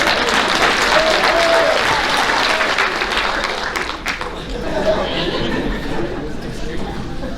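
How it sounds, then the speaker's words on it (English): A banquet crowd at a high school athletic awards night gives the athletes a sustained round of clapping, loud and dense at first and tapering slightly, with chatter and some voices mixed in. "Let's give these athletes one more round of applause."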